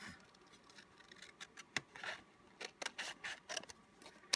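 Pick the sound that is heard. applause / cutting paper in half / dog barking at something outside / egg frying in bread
cutting paper in half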